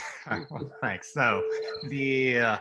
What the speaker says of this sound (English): I apologize that there's a cricket chirping in the background